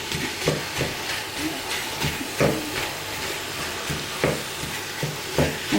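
Minced meat sizzles steadily in a pan while a utensil scrapes and stirs it in regular strokes, close and continuous, under a voice.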